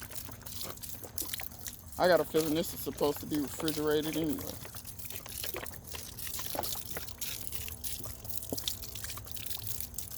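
Spoiled milk glugs and trickles as it is poured into compost, with someone talking over part of it and light rustling in the background.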